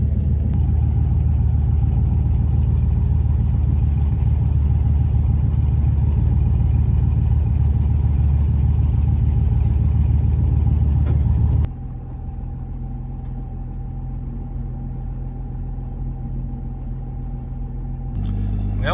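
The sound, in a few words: car being towed home by a lawnmower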